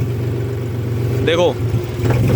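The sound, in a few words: John Deere tractor engine RPM dropping as air intake blocked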